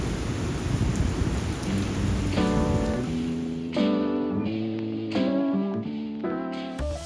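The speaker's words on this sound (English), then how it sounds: "unfortunately there was a surprise rainstorm and neither of us wanted to go out in this weather" A sudden rainstorm in New York City gives a steady, dense hiss of falling rain, with music playing over it for most of the stretch.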